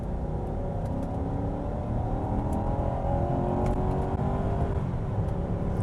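A P2 Volvo XC90 luxury SUV accelerates, its engine note rising through crisp gear shifts in a continuous steady whir heard from inside the cabin, with no talking.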